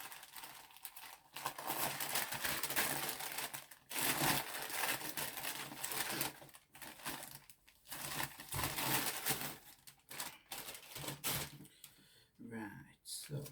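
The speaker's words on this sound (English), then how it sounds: "Get ready for the crinkling." Parcel packaging crinkles and rustles in irregular bursts as it is opened up close, with pauses between handling noises and a person talking at moments.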